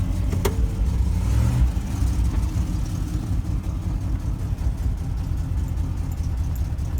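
A 1988 Land Rover Defender 127 drives with the engine running on choke shortly after a cold start, windows down, producing a loud, steady, rumbling drone that stays close throughout.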